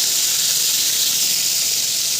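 Food fries in a pan just after being flipped, giving a continuous, bright, crackling sizzle. It is loud and close, with no voices over it.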